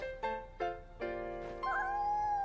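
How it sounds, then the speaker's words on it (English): A kitten gives a run of short, clear meows, three quick ones followed by a longer, rising and wavering cry, close and distinct with nothing else around them. "It's a kitten!"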